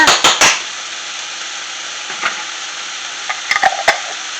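Garlic hits a hot frying pan for a loud, steady sizzle, with a few sharp utensil taps at the start and near the end.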